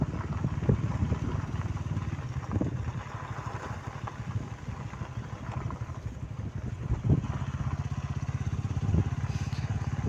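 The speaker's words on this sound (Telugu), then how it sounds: "అందుకనే మేము కూడా బైక్లో వెళ్తున్నాం" Motorcycle ridden along a village road, its engine putting steadily close by with a rough, even throb and occasional louder bumps, no talking.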